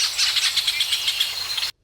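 Forest ambience from the Refuge Phonique Marguerite in Quebec, Canada, with dense, bright birdsong and insect chirping pulsing steadily throughout before cutting off abruptly into silence.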